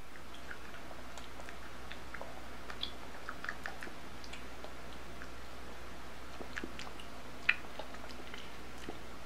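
Jelly Belly jelly beans being chewed, a faint and quiet run of soft, irregular clicks and squishes with no talking.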